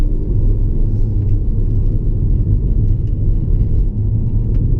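Peugeot 308 GTi 270 hatchback engine pulling hard in third gear, a steady deep rumble heard from inside the cabin, loud and continuous with no voices over it.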